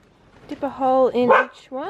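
A pet dog in a suburban Australian backyard garden barks in a quick close run of sharp, loud yaps, alongside a person speaking nearby.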